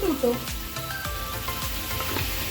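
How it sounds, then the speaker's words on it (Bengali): Bengali spiced masala for potoler dorma sizzles and fries in a pan as tomato paste goes in, a steady close hiss with scraping stir sounds and a voice talking over it. "এই মুহূর্তে আমি টমেটো পেস্ট অ্যাড করছি"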